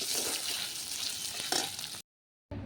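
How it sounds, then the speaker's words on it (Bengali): Dal poured into a hot pan, a dense loud sizzle lasting about two seconds with a brief surge partway, then a moment of silence before the hiss resumes, close and without voices. "ডালটা ঢেলে দেবো"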